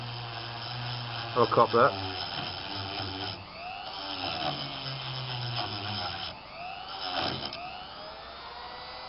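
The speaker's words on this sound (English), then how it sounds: "Let the tool do the work. That's the Dremel, not me." A handheld Dremel rotary tool grinding a knife handle, a steady high whine that shifts pitch as pressure changes, with someone talking over it close by.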